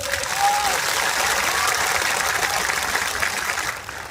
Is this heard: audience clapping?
yes